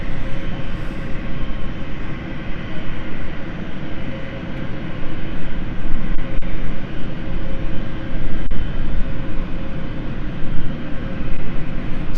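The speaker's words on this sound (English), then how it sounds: "As we wait for the Chambery flight to taxi to Runway" A jet airliner on the Chambery service taxis at London City Airport, a loud, continuous engine roar and broad rushing wash that swells slightly without any distinct breaks.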